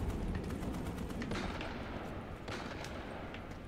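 Dense, steady gunfire from the Starship Troopers: Extermination shooter game, a continuous roar of rapid shots with a few sharper bursts standing out, with no talking over it.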